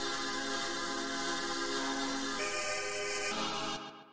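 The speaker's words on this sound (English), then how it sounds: "So then the next thing that I have here is this pad" A dense, sustained granular synth pad built from an old-school chord stab, bright and shimmering with a brief brighter swell partway through, alone and steady before tapering off at the end.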